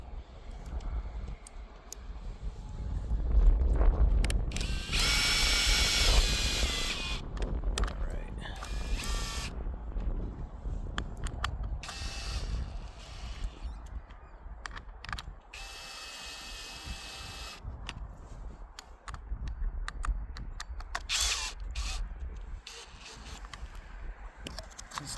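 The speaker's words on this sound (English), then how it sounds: "It's splitting out and shredding itself as I put the screws in." A power drill drives screws into a splitting wooden railroad tie, with whirring bursts of the drill and crunching, grinding wood mixed with clanking mechanical sounds, close up, while a person talks over parts of it.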